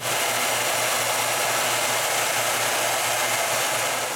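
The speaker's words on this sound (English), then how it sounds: "Now that they fit into each other perfectly, I go back to the sander just to be sure they're the same size." Power sander smoothing wooden cryptex parts in a woodshop: a loud, continuous, broadband whooshing drone, steady and close for the whole stretch, with no talking.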